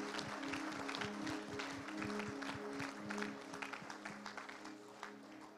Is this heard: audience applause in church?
yes